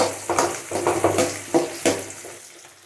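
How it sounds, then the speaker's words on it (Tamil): Onions fry with spices in oil for a Chennai kurma. Close, bursty sizzling comes in about half a dozen stirring pulses, with quieter gaps between them. "வெங்காயம் போட்டுட்டு வதக்க வேண்டியதுலாம்."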